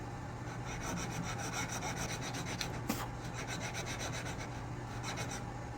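A flat file rasps steadily against a spokeshave sole being refit to its profile, a continuous rubbing scrape with regular strokes, close and alone.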